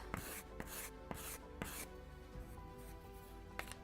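A wooden bulkhead for a Model Shipways Mayflower (1620) kit in 1:76 scale is sanded by hand in quick rhythmic back-and-forth rasping strokes, close and fairly quiet, with no talking.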